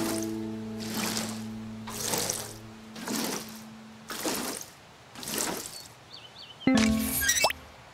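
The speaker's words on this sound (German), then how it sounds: "Jetzt können wir gleich mal gießen gehen." Crops are watered with a watering can in the farming game Fae Farm: a run of six even, soft watery splashes about a second apart, followed by a brighter chime-like burst, with no talking.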